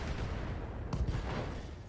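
An explosion rumbles in the BattleTech video game: a faint, muffled blast bursts out in the middle over a low, continuous battle rumble.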